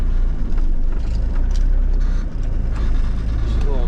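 A cabover truck, just fitted with a new clutch, creeps along in reverse with a low, rumbling engine drone and a slight dip and lurch midway.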